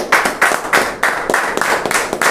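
A standing church congregation claps together in a steady, strong rhythm during a Sunday evening worship service, with loud, even beats and no voices.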